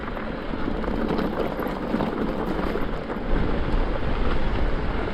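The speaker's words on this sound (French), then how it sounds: "Mais il y a un vent." Strong outdoor wind buffets the microphone with a steady, loud rumbling roar that swells slightly toward the end, and no other sounds come through.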